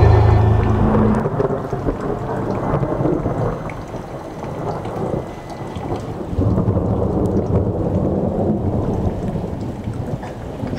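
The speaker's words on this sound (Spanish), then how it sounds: "con nubes llenas de relámpagos que auguran fieras tormentas" A thunderstorm sound effect of steady heavy rain with rolling thunder rumbling beneath it, loud and continuous throughout with no speech.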